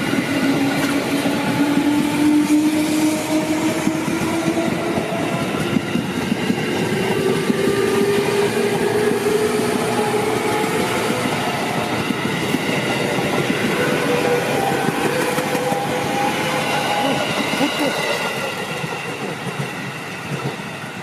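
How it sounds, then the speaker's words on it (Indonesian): An Indonesian passenger train passes at speed, a loud, steady rumble with rhythmic clickety-clack from the wheels and a faint rising whine. The noise holds for about twenty seconds before easing slightly at the end. "Keretanya ngebut ya."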